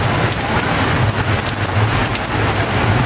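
Steady heavy rain pours down at an outdoor wholesale produce market in Cibitung, Indonesia, a dense continuous hiss with a low rumble beneath, loud and close throughout, with no talking.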